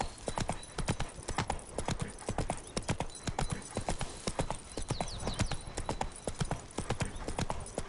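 Hooves of Roach, a horse in The Witcher 3, clip-clop in a steady, brisk rhythm throughout, close and clear, with faint game ambience underneath.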